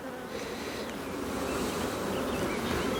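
Dense, steady buzzing of many honeybees on an open brood frame from a hive, close and continuous with a constant drone and no voices.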